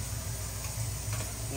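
Steady close-up sizzling of potatoes frying in a pan for a creamy chicken curry, a continuous crackling hiss with small pops, with a voice talking over it.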